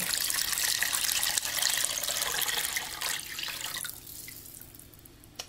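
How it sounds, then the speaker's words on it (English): Filtered water pours steadily into a crock pot of simmering bone broth, a close, full splashing stream that thins and tapers off near the end. "all I'm going to do is just add enough filtered water to cover the top again"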